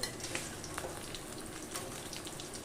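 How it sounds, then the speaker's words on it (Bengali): Tilapia fish rubbed with salt and turmeric fry in hot oil, a continuous soft sizzling with small crackles throughout, close and fairly quiet, with no talking. "এই যে তেলাপিয়া মাছগুলো আমি লবণ আর হলুদ মেখে তেলে একটু ভালো করে ভেজে নিচ্ছি"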